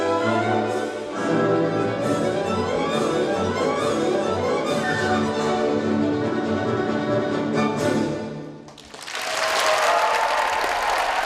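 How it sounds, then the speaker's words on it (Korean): Orchestral music plays to the end of a ballet performance, then fades into a burst of dense audience applause that fills the hall for the last couple of seconds. "공연이 끝나고 박수 소리가 멈추지 않는다."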